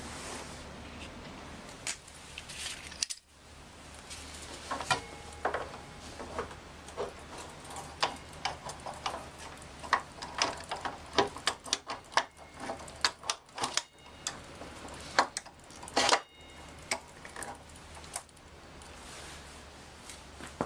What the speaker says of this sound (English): Just a little bit of soft tapping on the end just to get it all the way through.